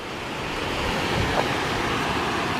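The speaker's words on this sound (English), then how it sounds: "Nice cascade here." Mountain stream cascade at about 9,900 feet on the Mount Whitney Trail, swollen with snowmelt: a close, continuous rushing roar of falling water, steady throughout with no voices.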